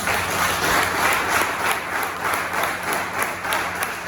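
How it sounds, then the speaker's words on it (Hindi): An audience at a stage presentation claps together, a sustained burst of dense, even applause that stays strong across the whole stretch with no voices on top. "अच्छा लगे तो ताली भी बजा दो यार"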